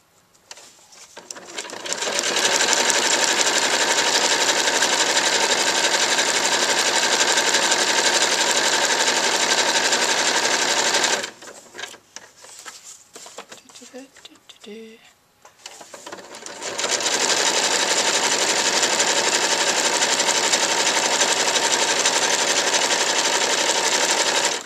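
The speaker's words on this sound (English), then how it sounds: "And the idea is that we're covering all the raw edges with our satin stitch." A sewing machine runs a satin stitch over appliqué edges, loud and close with a steady whirring drone, pausing midway for a few seconds of quieter handling before resuming at full speed.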